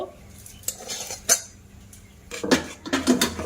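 A spoon clinks and scrapes against a pot as boiled mango is stirred into thickened cooked sago, with several distinct metallic knocks and bursts of scraping close up.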